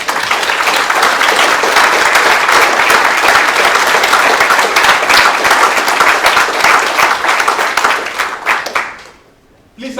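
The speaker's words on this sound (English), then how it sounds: "I'm sure that you would like to join me in a very warm round of applause for our speaker." Sustained, loud audience applause fills a lecture hall after a University of London public lecture, dense clapping holding steady for several seconds before tapering off quickly near the end.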